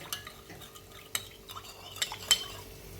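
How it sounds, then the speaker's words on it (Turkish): Salad dressing of salt, pomegranate molasses, lemon juice and oil stirred in a bowl, with soft swishing and a few sharp utensil clinks against the bowl, close and quiet, with no talking. "Tuz, nar ekşisi, limon, sıvı yağ, zeytinyağı. Güzelce karıştırın bir kapta."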